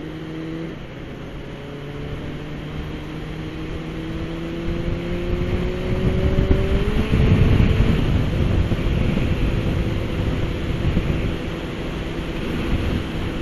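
A light aircraft engine with carburettors recently synced drones steadily in flight, its tone rising in pitch midway, under a constant rush of wind noise.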